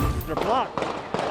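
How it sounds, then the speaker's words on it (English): Several sharp gunshot-like pops ring out in a crowded street in downtown Louisville, with a voice speaking briefly among the noisy crowd. "multiple shots being fired in downtown Louisville"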